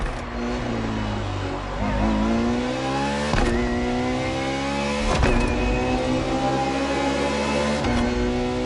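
A Ferrari FXX K racing car engine screams loudly through rising gear sweeps, with sharp shifts between climbing high-pitched revs, close and sustained.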